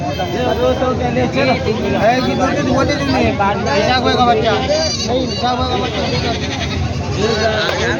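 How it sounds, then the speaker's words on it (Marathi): Goats bleat repeatedly amid a busy village goat market crowd in Purna, Maharashtra, their wavering cries overlapping with nearby chatter and general hubbub. "या ठिकाणी सुरुवातीला बकऱ्या आहेत पण इकडे साईडला शेळ्या पण असतात"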